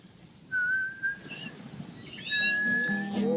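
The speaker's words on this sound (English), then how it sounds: "The noise is the frogs madly in love." Frogs giving high whistling mating calls on Guana Island, several clear tonal whistles and rising chirps, near and fairly loud over quiet background.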